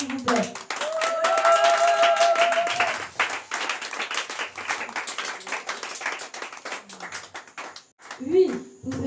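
A church congregation applauding and acclaiming the Lord, a sustained burst of clapping and cheering that swells early and then thins out, with voices rising over it and a speaker's voice near the end.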